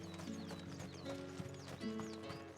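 Hoofbeats of a mount ridden in the video game Final Fantasy XVI clop at a steady trotting rhythm with a whinny, set over layered in-game music.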